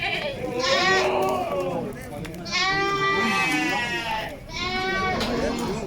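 Two young male goat kids bleating repeatedly in long wavering calls on a livestock farm, three clear bouts separated by short pauses, fairly close and loud.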